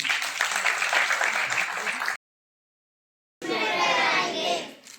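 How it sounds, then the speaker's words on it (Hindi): A crowd claps loudly in a dense burst, breaks off into silence, then resumes with steady clapping that fades away at the end. "तालियां आप सबकी तरफ से हो जाएं."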